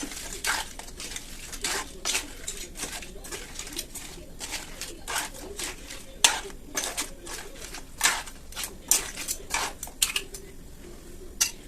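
Crab curry ingredients being mixed in a bowl by hand, a run of quick, sharp clinks and wet slaps that come in an irregular, steady rhythm, close and fairly clear.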